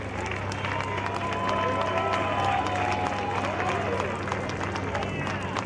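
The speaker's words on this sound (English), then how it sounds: "let's give them a round of applause, the legends that are here as well" Audience applause and cheering for women legends at a Valley Metro event with the mayor and city council, a steady wash of clapping and crowd noise held throughout at moderate loudness.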